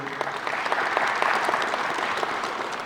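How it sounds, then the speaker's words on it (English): A graduation audience gives a steady round of applause, dense and even throughout with many hands clapping at once and a few sharper claps standing out. "we didn't get a round of applause for Mrs. Simone"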